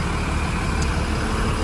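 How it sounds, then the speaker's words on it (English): A 250-horsepower MBE 926 diesel engine in a school bus idles steadily while warming up, with a dense, constant rumble and clatter, close and loud, with no break. "we're going to let the engine warm up for just a little bit"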